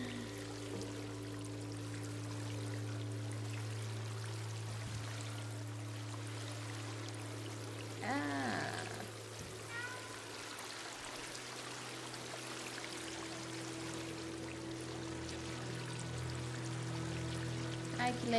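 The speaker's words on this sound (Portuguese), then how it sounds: "que relaxante esse barulhinho da água" Flowing water in the video game Stray on PS5, a soft continuous stream and trickle under a low steady hum, with a brief louder splash or gurgle near the middle; faint and calm, no voices.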